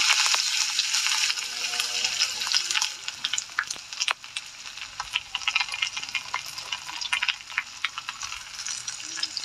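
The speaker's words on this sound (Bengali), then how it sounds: "আমি এখন পেঁয়াজটা হালকা ভেজে নেব" Chopped onion and tomato fry in a hot pan for an egg and soybean dish, a continuous close crackling sizzle with scattered pops and scraping stirs throughout.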